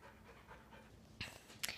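A little puppy pants softly in a quiet indoor room, a faint steady huffing rhythm, followed near the end by two brief sharper rustling bursts.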